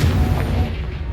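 Confringo fire spell from Hogwarts Legacy bursting as a short, dense low boom that fills the whole moment, with no voices over it.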